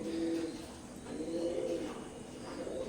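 Teddy pigeons, a small imported-bloodline breed, coo softly and steadily at close range in repeated low rolling phrases, with no talking.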